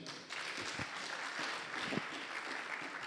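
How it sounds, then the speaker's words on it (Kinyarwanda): A church congregation applauding during a service, a steady wash of many hands clapping at moderate distance for about three seconds, with no talk. "Clap to the Lord."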